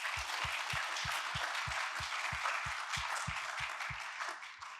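An audience at an awards ceremony claps for mentors and jury members, a moderate wash of applause that tapers off toward the end, mixed with a series of regular low thumps.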